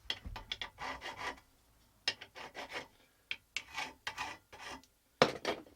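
A file rasping on metal mole trap parts clamped in a vise, a series of close, rhythmic scraping strokes in uneven bursts with brief pauses between passes and no voices.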